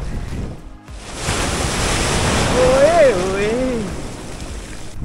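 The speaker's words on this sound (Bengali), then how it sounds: "আর একের পর এক ঢেউ আসছে" Sea waves rolling onto the beach at Dublagadi, a broad continuous roar of surf with wind buffeting the microphone, a brief lull near the start and a faint whistle-like tone midway.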